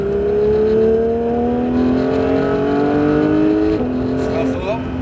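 A Porsche 911 GT3 on the Mirevals race circuit accelerates under gentle throttle, engine note rising steadily in pitch, then briefly dips and climbs again near the end, loud and close with an onboard feel.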